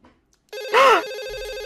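A mobile phone starts ringing with an incoming call: a loud, close electronic ringtone with a trilling pattern, and a brief swooping chirp at the start of the ring, with no talk.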